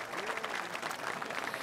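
Applause for parents and families at an academic college excellence awards ceremony, a steady, dense crowd clapping throughout, close and full.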